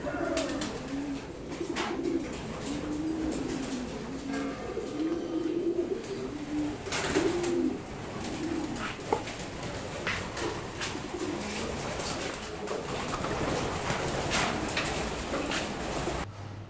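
Racing pigeons, one a 21-year-old hen, cooing steadily in a loft, with low rolling coos repeating throughout at close range, plus faint background clatter and no speech.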